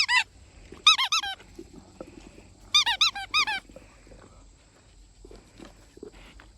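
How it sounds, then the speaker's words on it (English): A bright blue Kong dog toy squeaks in two quick bursts of several shrill squeaks, close by, with soft shuffling and pawing between them. "She likes the squeaker with the bright blue coloring"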